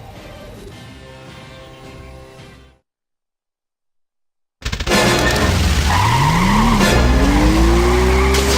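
Goodbye Deponia game audio: after a stretch of dialogue and a brief silence, a car engine roars up loud and close, its pitch sweeping upward as tires squeal while it drives off.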